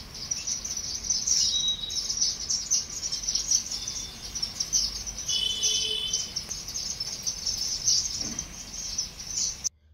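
Sparrows give brief, scattered chirps at a home bird shelter, sounding faint against a constant high insect drone.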